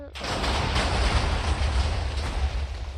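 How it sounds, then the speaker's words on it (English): Dynamite TNT firework detonating in a modded block-building video game, a loud, rumbling burst of rolling explosions with heavy low-end booms that continue and crackle for several seconds. "This is just a dynamite TNT firework, you know."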